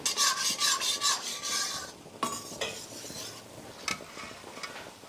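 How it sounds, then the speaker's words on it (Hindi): Gulab jamun being stirred slowly in a pan: close, repeated scraping and rasping strokes of a utensil against the metal, busy and dense at first, then sparser and quieter, with no voices. "धीरे धीरे करके अब हमें गुलाब जामुन को चलाते रहना है"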